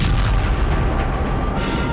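A drone-fired missile strikes an Armenian army camp: a loud, sustained explosive roar with deep rumbling, close and overwhelming across the whole moment, with no voices.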